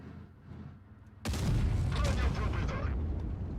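A single heavy tank cannon blast from a T110E4 in World of Tanks Blitz bursts out suddenly, loud and booming, then rolls on with rumbling reverberation after a quieter start.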